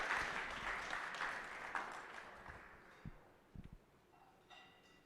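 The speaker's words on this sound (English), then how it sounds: "Let's give them a round of applause." An audience at an awards ceremony applauds, a dense clapping wash that starts strong and gradually fades over several seconds, with a few isolated claps and a faint tone near the end.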